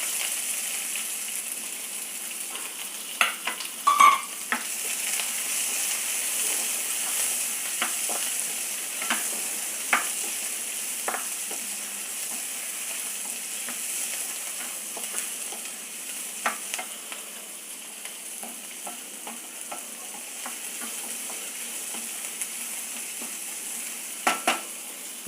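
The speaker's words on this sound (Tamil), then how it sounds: "வெங்காயம் வதங்கட்டும்." Onions sauté with cumin and fennel in a pan, giving a steady soft sizzle with scattered small clicks and pops from stirring.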